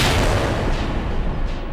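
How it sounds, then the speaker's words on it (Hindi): Mughal cannons fire at a fort from close range, giving a heavy, loud, rumbling boom that fills the whole clip and decays slowly. "जब मुगलों की तोपों ने हमारे दुर्ग के इतना निकट तक वार किया है"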